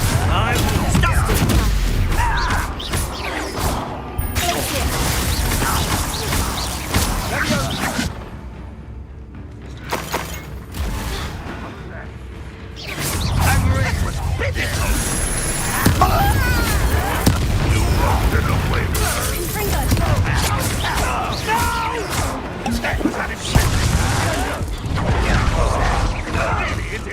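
Repeated fiery Confringo spell blasts in Hogwarts Legacy, loud booming bursts and crackling debris in dense volleys, with a short quieter gap midway, alongside scattered game voices.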